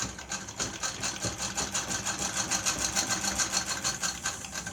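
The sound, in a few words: vintage Singer sewing machine stitching at longest stitch length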